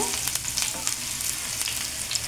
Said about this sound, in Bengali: এখন এটাকে কিছু সময় বাদামি কালার করে ভেজে নেব